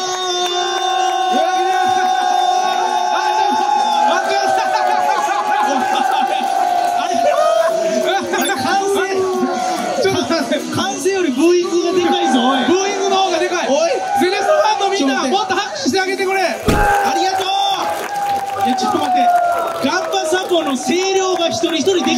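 A large crowd of Gamba Osaka supporters at the Osaka derby against Cerezo roars and boos continuously, a dense, sustained wall of voices with rising whoops and shouts throughout.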